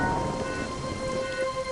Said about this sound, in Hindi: बारिश शुरू हो गई। अब हमारी पृथ्वी पर पानी भी आ जाएगा।